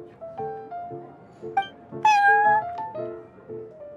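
A cat in the video game Genshin Impact meows repeatedly in short, close, clear calls, with one louder drawn-out meow in the middle and no speech.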